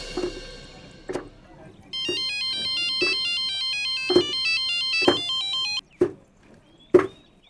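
Incoming-call phone ringtone plays a repeating electronic melody for several seconds, loud and steady, with sharp percussive hits and short bursts of dramatic music around it in a Hindi TV crime drama scene.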